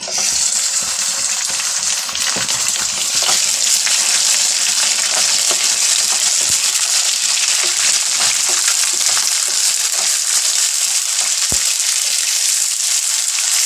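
Goat meat fries with light-browned onions in a pan for a beetroot gosht curry, a steady dense hiss and crackle with occasional clicks of stirring, close and continuous throughout.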